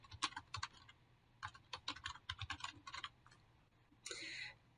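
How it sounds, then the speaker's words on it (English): Someone types on a computer keyboard, a close, quick run of light key clicks in uneven bursts with short pauses, ending in a brief louder clatter. "So I want to make sure I type my name in here."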